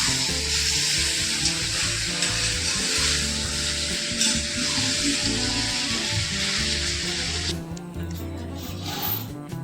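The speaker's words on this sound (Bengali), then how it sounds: "এদিকে বিরিয়ানির ভাত বসিয়ে দিয়েছি আর মটনটা কষিয়ে নিচ্ছি।" Mutton is sautéed as a kosha in a pan during village-style cooking. A loud, steady sizzle with rubbing stirring sounds runs throughout over a low, humming background, thinning briefly near the end.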